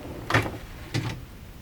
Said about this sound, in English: patented serrated tooth design makes it really secure for re-engaging with a nice audible click